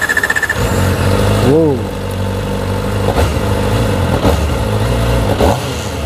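A Kawasaki ZX-25R or ZX-4R motorcycle engine starts and revs, with a rising and falling throttle blip followed by several sharp revs over a loud idle, close by, with a brief exclamation from a voice.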